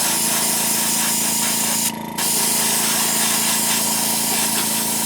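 A vehicle wrap is spray-painted white, with a continuous loud airy hiss from the spray gun and a steady mechanical drone behind it, broken by one short louder burst of spray partway through.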